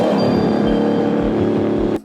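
A Cadillac DPi-V.R race car on a bump starter hums electrically and then catches into a loud, steady engine drone with pulsing low throbs, cutting off abruptly near the end.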